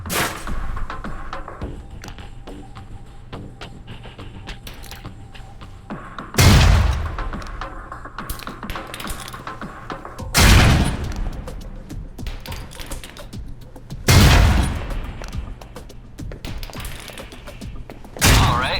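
Concussion grenades in Alpha Protocol, four loud booming blasts spaced a few seconds apart, each a heavy low thud with a brief rumbling tail, over quieter scattered clatter between them.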